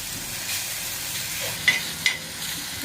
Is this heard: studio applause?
no